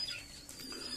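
Pigeons cooing softly in a hot, humid, still loft, the birds weak and off their feed; low murmuring coos with faint bird chatter, fairly quiet and alone without talk.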